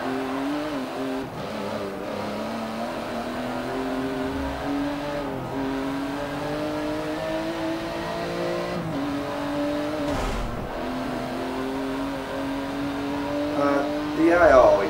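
Racing cars in the video game Forza 7 drone steadily from a cockpit view, engine pitch rising and falling through gear changes, with a brief burst of tire squeal and revving near the end.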